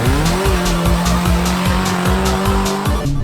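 A Subaru fitted with oversized truck wheels revs hard in low gear while driving off-road, its engine droning loudly and continuously with a rhythmic pulsing throb and rising pitch, close and dominant throughout.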